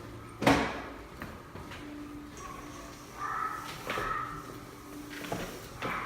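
A recording of forest animals and birds plays in a basement kids' corner at a Colorado Springs attraction, with scattered calls, caw-like cries and brief tonal chirps, moderately quiet, plus a sharp knock near the start.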